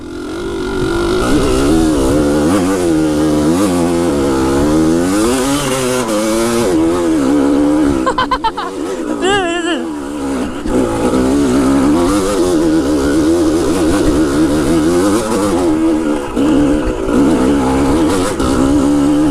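A dirt motorcycle fitted with a Lectron carburetor revs hard and accelerates in third gear, its engine note climbing and falling in loud, close waves for nearly twenty seconds, with a brief dip midway.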